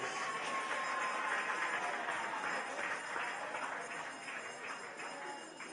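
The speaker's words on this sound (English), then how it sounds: "Give Alice a round of applause" Sustained applause from a crowd at a prime minister's public address, a steady dense wash of clapping that holds at moderate level for several seconds and eases slightly toward the end, with no talk over it.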